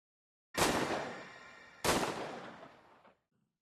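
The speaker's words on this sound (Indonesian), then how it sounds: "melesatkan 2 kali tembakan ke sosok psikopat" Two pistol gunshots from the film Unlocked ring out, each a sharp loud crack followed by a long decaying echo, about a second and a half apart, with nothing else heard.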